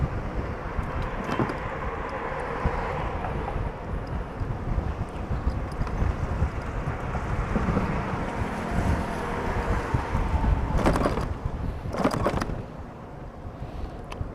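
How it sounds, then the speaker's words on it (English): Steady, loud wind buffeting the microphone while riding at about 6,500 feet above sea level around Dali, China, a continuous roar with a few brief sharper gusts near the end and no talking. "I'll go a little slower so the wind isn't so loud."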